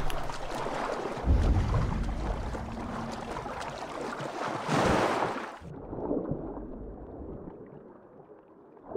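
Water lapping and splashing around a boat in Assassin's Creed Valhalla, a steady wash with wind noise and a louder surge of splashing midway, then calmer, quieter water toward the end.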